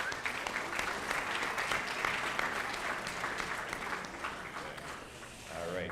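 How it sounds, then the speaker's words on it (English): An audience at a school academic awards ceremony claps for the parents, a dense sustained round of applause that fades slightly near the end before a brief swell, with no clear talking over it. "one really big round of applause for your parents one last time"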